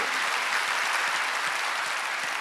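Steady, dense applause from a church congregation during a Wednesday worship service, even and unbroken throughout, with no voices over it.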